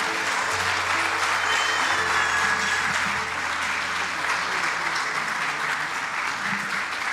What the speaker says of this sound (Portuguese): Alguém pode aplaudir a Cristo?